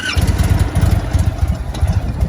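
A 2022 Indian Super Chief motorcycle engine catches and settles into a steady, loud, low rumbling idle with a fairly quiet stock exhaust, close by and with no talking.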